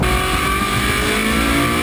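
A Ferrari 458 Speciale's engine revs hard and steadily, a loud, close, high-pitched mechanical howl held throughout, with no talking.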